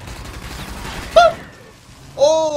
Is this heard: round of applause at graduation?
no